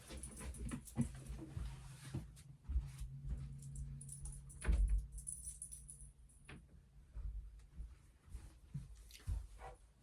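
A dog whimpers and whines in short bursts, close by, with metallic jangling like tags or keys and some shuffling movement; no one talks.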